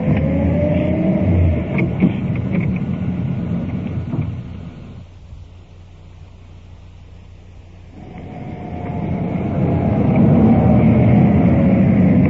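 A 1950s car driving down a street at night, a loud rumbling engine and road noise that fades and quiets midway, then swells again as it picks up speed, no one talking.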